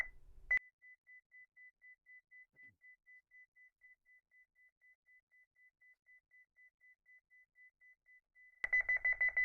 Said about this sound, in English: Once it gets down to 10 seconds right here, it gets a more frequent beep.